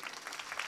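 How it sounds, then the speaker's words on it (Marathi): Brief, faint patter of audience applause, many hands clapping softly and at a distance during a Marathi devotional discourse. "टाळ्या वाजवा ना जोरदार."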